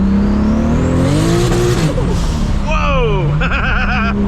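A 1000HP Toyota MKIV Supra pulls hard in second gear, its engine revving loud and rising in pitch with whining, fluttering turbo sounds, while people shout and exclaim over it.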